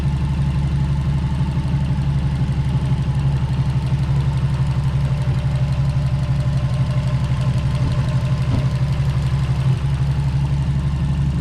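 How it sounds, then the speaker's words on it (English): A Subaru WRX with a freshly installed engine idles steadily, giving a close, even, low rumble that stays level throughout with no talking. "The new motor, you can listen to it purr."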